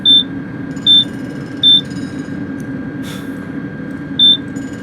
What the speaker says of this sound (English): That thing could do an impression of a very weak smoke alarm.